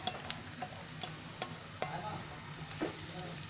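Onion and chili stir-frying in a pan with ginger and garlic, a soft steady sizzle marked by regular light clicks and scrapes of a spatula, fairly quiet and without speech.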